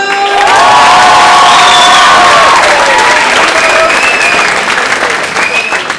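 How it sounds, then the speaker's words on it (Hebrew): A crowd applauds and cheers loudly at a Purim show put on by a naval officers' class in Acre, with sustained clapping, whoops and shouts that swell and then taper over several seconds. "מחיאות כפיים"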